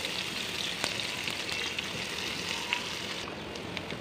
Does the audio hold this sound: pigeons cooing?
no